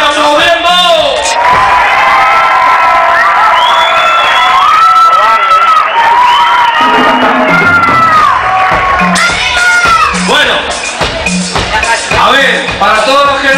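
A huge crowd of around 90,000 at an outdoor orchestra show cheers, whoops and shouts on cue, a dense, loud, sustained roar with high shrill voices carrying throughout.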